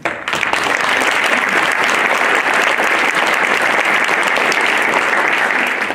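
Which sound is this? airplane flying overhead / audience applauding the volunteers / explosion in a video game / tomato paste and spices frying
audience applauding the volunteers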